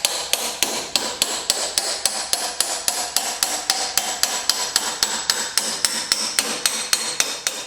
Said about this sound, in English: So I'm gonna hammer this axle right out.